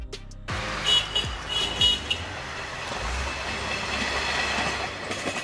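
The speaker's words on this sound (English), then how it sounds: "Railbus, a bus designed to run on railway tracks or light rails." A railbus, a bus built to run on railway tracks, rolls along the rails with a steady rumble, rhythmic clickety-clack thumps from the wheels on rail joints and a brief horn toot near the start.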